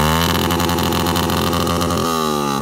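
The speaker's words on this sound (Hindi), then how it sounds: "अपनी बाइक का साउंड सुना" A motorcycle engine runs loud and steady at close range, its low harmonic drone holding even throughout with a slight shift in pitch near the end.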